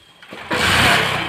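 A motorbike engine catches and roars up loudly and close by in a short burst after a brief quiet moment.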